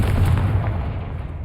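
A Confringo fire-blast spell in Hogwarts Legacy gameplay erupts as a deep, sustained booming explosion lasting about a second and a half, heavy and close with rumbling low end.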